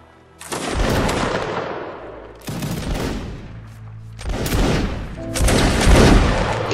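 Four massed musket volleys crash out in a video game battle, each a loud broadband burst with a long rolling decay, spaced roughly every one and a half seconds with no talk between.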